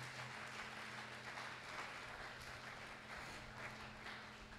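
A church congregation applauds the Lord, producing faint, steady clapping from a crowd that continues evenly throughout over a low background hum.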